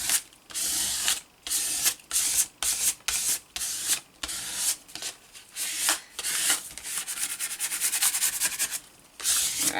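A credit card rubs firmly back and forth over a wrinkled paper bag to flatten it, giving a series of close, dry scraping strokes with short pauses, settling into a longer continuous rub near the end.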